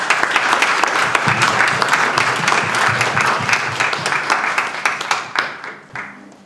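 Audience at a Romanian folk costume exhibition applauding a woman in an old marquisette blouse, steady dense clapping from a crowd that thins into scattered claps and fades out at the end.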